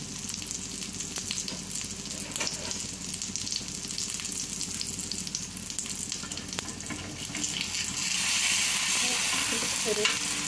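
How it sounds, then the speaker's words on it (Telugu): Ragi roti roasting in ghee on a pan, a steady low sizzle and crackle running throughout, growing louder and brighter near the end, with no talking. "దీన్ని నెయ్యితో కాల్చుకోవాలి చూస్తున్నారు కదా నెయ్యితో కాల్చుకుంటేనే ఇవి టేస్ట్ బాగుంటాయి"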